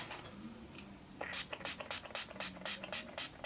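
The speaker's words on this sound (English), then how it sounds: "I'm going to quickly spritz that." A rapid series of short bursts of makeup finishing spray, several quick spritzes in a row, close and fairly soft after a brief quiet start.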